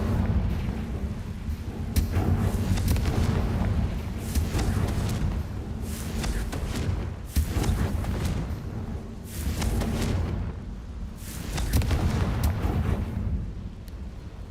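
Repeated fiery spell explosions from the Confringo curse in Hogwarts Legacy, heavy rumbling booms rolling one after another over a continuous low roar, with no talking.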